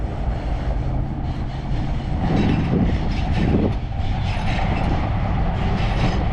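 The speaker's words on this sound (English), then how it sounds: "Empty trains." An empty train rolls past in a city setting with a steady, loud rumble and clatter of wheels on rails that swells in the middle, heard close by without talk.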